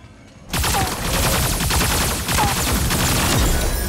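Dense, continuous gunfire from the video game Super Mecha Champions bursts in after a brief quiet moment and keeps rattling loudly with overlapping rapid shots.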